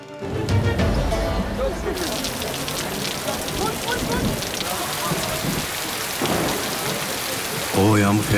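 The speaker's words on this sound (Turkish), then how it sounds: "Oo, yağmur fena indiriyor." Heavy rain pours down steadily with rolls of thunder, a dense close hiss sustained through the clip, with voices talking over it at times.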